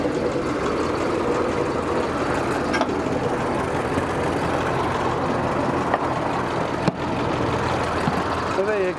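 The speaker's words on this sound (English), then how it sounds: "The old 1990 Leyland finally got to drive one." A 1990 Leyland truck runs steadily throughout at a show near Ashburton, its engine a continuous broadband rumble, with a couple of brief knocks and faint voices mixed in.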